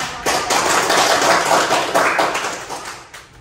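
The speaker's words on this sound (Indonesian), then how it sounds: "Kita beri tepuk tangan ya." A small group in a university teaching session claps after a group presentation, a brief burst of close, crisp applause that swells quickly and fades out by the end.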